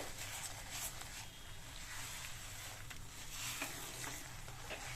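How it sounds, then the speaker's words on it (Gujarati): Sweet peanuts are stirred in a pan to coat them, making soft scraping and stirring strokes over a quiet, faint sizzle, with a few brief sharper clicks and no talking. "જુઓ, આવી રીતે હલાવતા જઈશું એટલે એની જાતે જ સરસ એવું કોટિંગ થતું આવશે."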